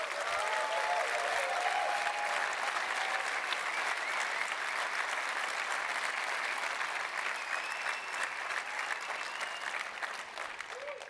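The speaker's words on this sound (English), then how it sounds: "give everybody who demoed a tremendous round of applause" An audience at a summit's demo finals applauds the demo presenters: dense, sustained clapping from a large crowd that holds steady for about eleven seconds and eases off slightly near the end.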